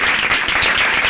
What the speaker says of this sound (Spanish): que sea por favor con un aplauso